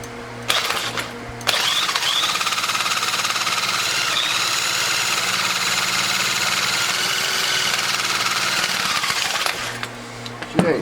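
Scrapped Craftsman 4-stroke weed eater engine running, a loud steady buzzing drone for most of the stretch, starting abruptly and cutting off near the end.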